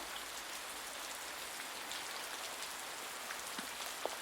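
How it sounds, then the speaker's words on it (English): Steady rain falls in a scene from the anime Akudama Drive, a dense even hiss of drops on surfaces with a few louder individual splashes, continuous and moderately quiet. "not only in the epic rain scene of episode 6"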